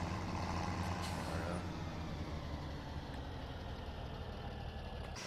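A tractor in the video game Farming Simulator 17 idles with a steady, loud engine rumble, broken by a brief hiss of an air brake early on; a voice says one short word.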